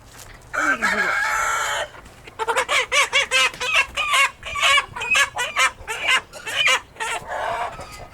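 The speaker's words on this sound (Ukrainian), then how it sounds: "Так, це у нас Артем випустив курей." Chickens just let out, clucking, and a rooster crowing nearby, a busy run of repeated calls and squawks with no talk.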